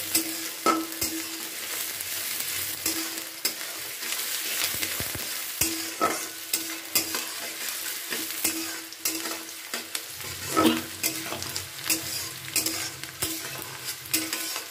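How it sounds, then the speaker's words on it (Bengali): Potatoes frying and being stirred in a pan until reddish, for a kundru (ivy gourd) fry: a continuous sizzle broken by frequent scraping and clinking strokes of the spoon, close and steady, without any speech. "এবার এটাকে একটু লালচে মতো করে আমি ভেজে নিচ্ছি 2 থেকে 3 মিনিট।"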